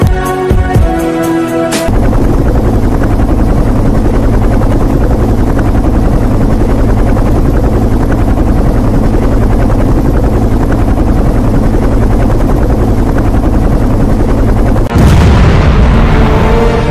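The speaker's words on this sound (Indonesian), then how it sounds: "Kadang naik helikopter, landingnya di sini." A helicopter roars in a loud, continuous throbbing drone with a heavy rotor chop, preceded by a brief burst of rapid mechanical clatter and ending in a sudden shift of noise, close and overwhelming throughout with no talking.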